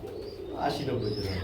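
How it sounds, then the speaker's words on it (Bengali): Budapest breed pigeons kept in pairs with their chicks: a short, soft cooing from the birds close by, with people talking quietly under it. "জুরাই কবুতর মানে বাচ্চা সহকারে কবুতর দেখতে পাচ্ছেন"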